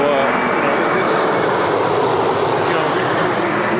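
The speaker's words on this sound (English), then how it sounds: "You see helicopters flying over this park" Helicopters flying over a city park give a steady, broad roar of rotor and engine noise, loud and unbroken for the whole stretch with no voices.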